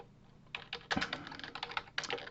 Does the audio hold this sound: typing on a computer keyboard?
yes